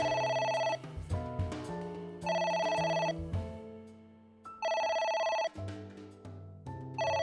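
A telephone rings repeatedly in the video game AI: The Somnium Files, a loud electronic bell ringing in bursts with brief pauses between them, alone without talk.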